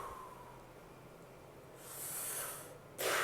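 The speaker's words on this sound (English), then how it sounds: "You hear those breaths? They're really big and strong." Two big, forceful breaths drawn in, broad and airy, the second sharper and louder, with quiet room tone before them.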